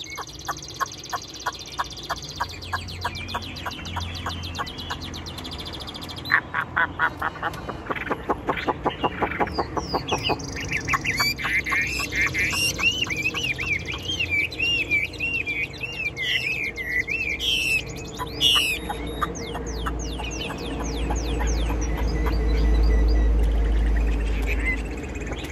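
A caged songbird sings in rapid trilling bursts and repeated chirps, close and clear, over a steady background hum with some low rumble near the end.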